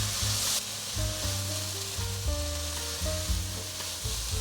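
Mushrooms and shredded taro stir-fry in a hot pan, giving a steady loud sizzle with scraping stirring strokes throughout and no voices.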